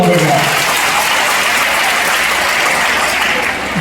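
A large audience applauds at a Gujarati motivational talk, a loud, dense wash of clapping that holds steady for several seconds before easing slightly at the end, with no talk over it.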